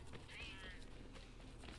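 A cat meows once amid the ambient soundscape of Assassin's Creed III, a short high wavering cry over a steady low background hum of game audio.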